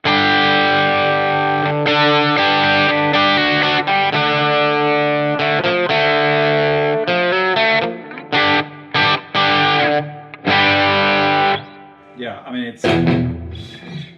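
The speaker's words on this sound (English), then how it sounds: "it sounds like a PRS Hollowbody, and it's awesome" Fender Acoustasonic electric guitar with heavy effects, sounding like a PRS Hollowbody, rings out in loud, sustained chords and riffs, breaking into choppy stabs and a few brief gaps near the end.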